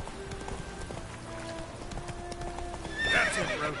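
Hooves of Roach, a horse in Witcher 3, clip-clop at a quick gallop under a low ambient bed, and a bright whinny rises near the end.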